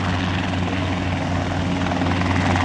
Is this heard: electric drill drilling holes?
no